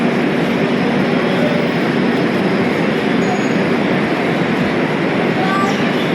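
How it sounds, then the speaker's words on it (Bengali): Steady, loud rumble at NJP railway station, where the Shatabdi Express waits early in the morning, a continuous broadband roar of train and platform noise with faint tonal whines, close by and without pause. "আমি এখন দাঁড়িয়ে আছি, আপনি দেখতে পাচ্ছেন এই এনজিপি স্টেশনে, এবং আমার ট্রেনের নাম হচ্ছে শতাব্দী এক্সপ্রেস।"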